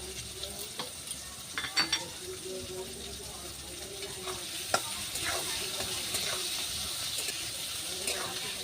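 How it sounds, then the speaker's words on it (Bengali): Slit green chillies go into hot oil while greens are being fried, giving a steady close sizzle with occasional sharper crackles and stirring scrapes. "এবার দিয়ে দেবো আমি চেরা কাঁচা লঙ্কা।"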